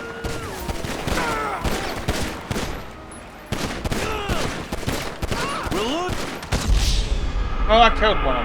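Bursts of rapid video game gunfire crackle through a frantic online match, mixed with shouted talk from players over the shots.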